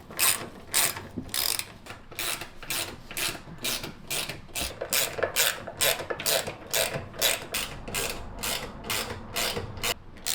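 A ratchet tightens bolts on a workshop vice in a bike workshop, producing a long series of sharp, evenly paced clicking strokes, loud and close throughout.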